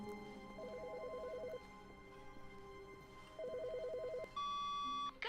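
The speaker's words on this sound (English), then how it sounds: "I hear a phone ring." A phone rings in The Stanley Parable video game, with two bursts of rapid electronic trilling separated by a pause over a low ambient hum, followed by a brighter tone at the end.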